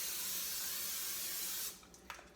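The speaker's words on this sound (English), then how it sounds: "I'm going to spray it with some nonstick" Nonstick cooking spray hisses onto a warming griddle in one loud burst of about a second and a half, then cuts off, followed by faint clicks and a quiet room.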